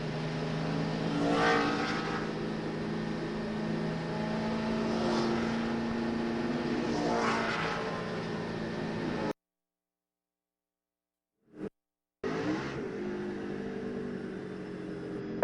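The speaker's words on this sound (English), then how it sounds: "Here comes lap down cars on the inside." NASCAR Cup stock cars roar past on the New Hampshire oval in 2006, with lapped cars on the inside. Several engine passes rise and fall in pitch, then the sound cuts briefly to silence before resuming.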